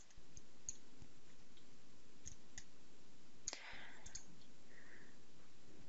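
Sparse computer mouse clicks while operating structural engineering software, a few single sharp clicks spread across a quiet room background with no talking.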